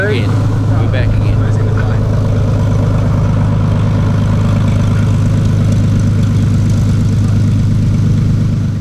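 A warbird's aircraft engine, started cold for the first time of the day at an airfield beside the hangar and aero club, drones loudly and steadily at close range, a constant heavy throb throughout.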